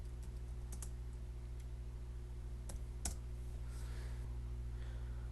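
Quiet, sparse keystrokes on a computer keyboard while a password is typed into a Linux terminal, a few scattered clicks over a steady electrical hum.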